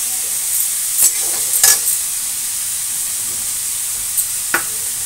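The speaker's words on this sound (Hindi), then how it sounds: "प्याज सूख होने तक पकाऊंगी।" Onions cook in a pan over medium heat with a steady, loud, airy sizzle, broken by a few brief scrapes and clicks of stirring, with no voices.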